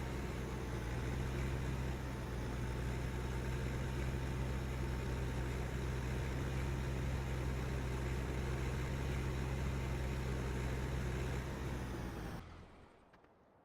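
A tractor engine in Farming Simulator 15 runs at a steady, droning idle for about twelve seconds, then cuts off abruptly into near silence.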